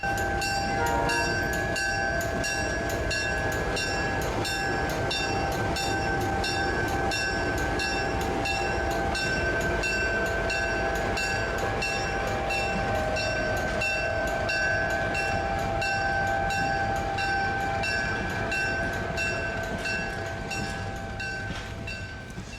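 A Southern Pacific U-boat diesel locomotive drones loudly and steadily close by, with a sustained horn-like tone and rhythmic rail clatter throughout.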